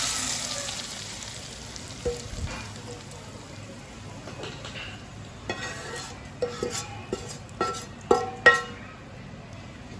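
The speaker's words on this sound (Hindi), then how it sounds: "अब दाल को तड़का लगा लेंगे।" Hot tadka of browned onions is poured into moong dal and sizzles steadily up close, while a spoon or pot clinks in sharp knocks toward the end.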